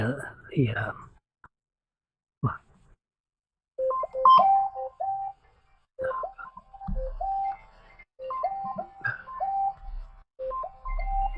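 An incoming phone call rings during a live broadcast as a thin, repeating electronic ringtone melody that returns in short bursts over several seconds after a brief murmur and quiet pauses.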